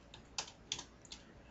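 Typing on a computer keyboard: a few sharp, faint keystroke clicks spaced irregularly over quiet room tone.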